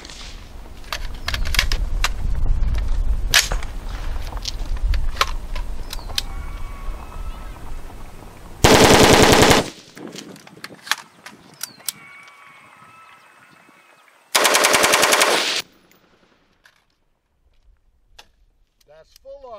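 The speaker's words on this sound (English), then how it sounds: "That's full auto with that particular muzzle brake." Two loud full-auto bursts, each lasting about a second, from a rifle fitted with a square muzzle brake, fired outdoors in Shiocton, Wisconsin, following earlier scattered shots and activity.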